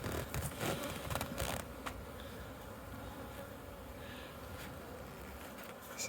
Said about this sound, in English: There's all these things buzzing around my head